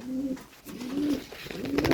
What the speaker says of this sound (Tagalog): Ang huni yan guys.